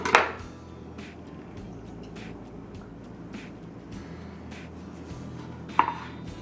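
A dull knife chops through a lime with a sharp thunk at the start and another near the end, separated by quieter scraping and faint background rumble.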